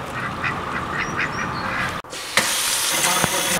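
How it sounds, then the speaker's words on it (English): A baby duckling rescued from a swimming pool gives a few thin, high peeping quacks close by over a steady background hiss. A sudden louder rustling burst follows near the end. "Look, Steven, I got another duck"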